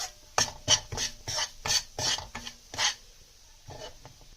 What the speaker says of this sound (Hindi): और हम स्लो फ्लेम में इसको भूनेंगे।